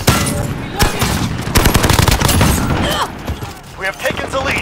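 Heavy automatic gunfire in Modern Warfare on the Shipment map during Kill Confirmed, with dense overlapping rapid bursts and explosive thumps, loud and close, mixed with in-game announcer voices.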